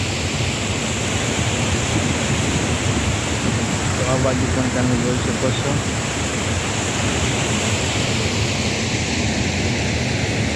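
Floodwater from heavy rain in Bhutdi village rushes over a submerged bridge with a loud, unbroken roar filling the whole scene, while someone speaks briefly over it.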